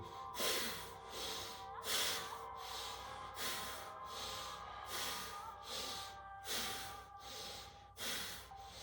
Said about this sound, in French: Ouvre tes poumons. Respire avec le nombril.